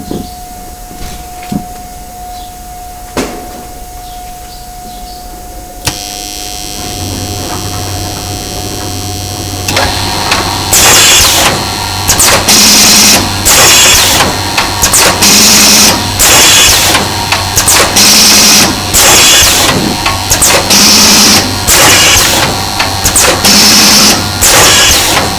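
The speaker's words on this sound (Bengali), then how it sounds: "দেখুন প্রোডাক্ট ছাড়া মেশিনটা অটোমেটিক চলতেছে।" A paper cone making machine running automatically with no material fed in: faint ticks at first, then a steady motor hum joined by loud, rapid rhythmic mechanical clatter repeating in regular cycles.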